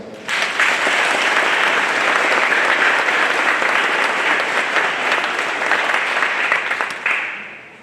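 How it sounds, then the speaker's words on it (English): An audience at the Northland graduation ceremony gives a loud, dense round of applause that starts abruptly, holds steady for several seconds, then tapers off at the end. "I know you will join me in giving them a round of applause"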